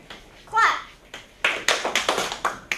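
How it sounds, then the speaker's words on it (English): Sixth-grade students clap their hands during a dance movement lesson, a quick burst of claps followed by a ragged run of about eight sharp claps in loose rhythm, with a voice calling out briefly before them. "All right, clap."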